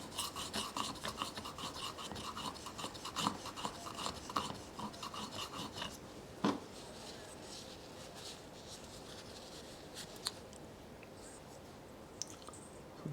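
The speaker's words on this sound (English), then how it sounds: "So we're polishing that bevel and polishing the backside." A blade bevel and back are polished on a sharpening stone, giving faint, steady back-and-forth rasping strokes in a quick rhythm, then slower scattered rubs and light clicks.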